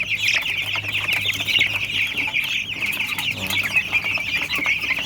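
A pen crowded with 21-day-old broiler chickens fills the air with continuous overlapping clucks and chirps, a dense steady flock chatter at moderate loudness with occasional wing flutters.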